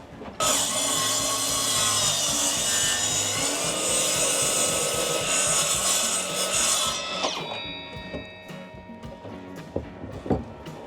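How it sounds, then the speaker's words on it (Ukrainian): A ProCraft PGS 20 cordless miter saw cuts through a 100 mm wooden beam, a loud, close, steady high-pitched whine and rasp for about seven seconds, then the motor spins down with a few clunks and knocks. "Давайте спробуємо на сотому брусі."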